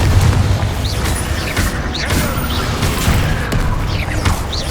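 A Confringo spell explodes in the Hogwarts Legacy video game, loud booming blasts and bursts that run continuously amid combat noise, with no talking.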